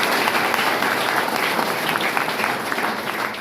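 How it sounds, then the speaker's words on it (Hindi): Loud, sustained applause from a large seminar audience, dense overlapping clapping that continues steadily throughout without speech. "उनके सम्मान में एक बार जोरदार ताली होनी चाहिए"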